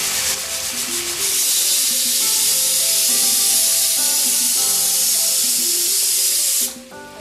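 A pressure cooker cooking rice for Kerala-style homemade chicken biryani lets off a long, loud, steady steam hiss and whistle lasting several seconds, then cuts off abruptly.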